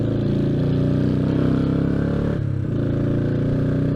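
A Royal Enfield Meteor 350 motorcycle pulls away in second gear with a loud, steady engine drone close by. The drone dips briefly midway and then holds even, with no talk over it.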